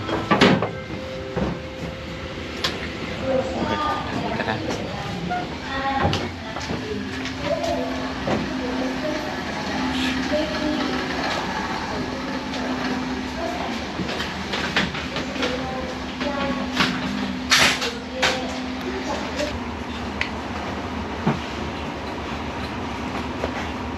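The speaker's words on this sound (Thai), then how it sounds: "ตอนนี้ครับเราก็อยู่กันบนรถไฟแล้ว" Inside an ordinary passenger train between Phitsanulok and Phichit, Thailand, a continuous rumble and rattle of the carriage with clicking and clanks, and a long steady tone partway through; faint voices in the background.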